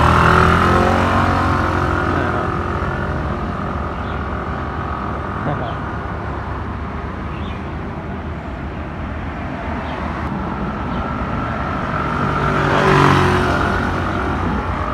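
A Suzuki Access 125 scooter rides off, its engine droning steadily while moving and swelling in a rev near the end, with a voice talking over it.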